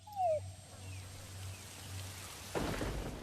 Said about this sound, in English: our intel unit is reporting rain approaching our vicinity